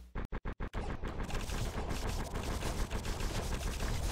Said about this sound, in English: I mean, a machine gun.